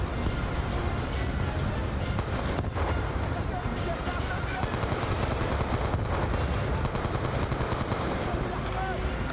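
Sustained AN-94 rifle fire in the Black Ops 2 campaign, a continuous loud stutter of rapid shots mixed with wind-like battlefield noise and scattered distant bursts throughout.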